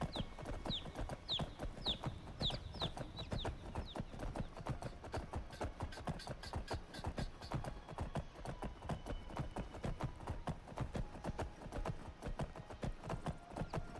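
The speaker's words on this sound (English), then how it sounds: "Now we have a cool looking horse." Horse hooves clip-clop in a Skyrim video game, a fast steady patter of hoofbeats throughout, faint and even, with occasional bird chirps early on.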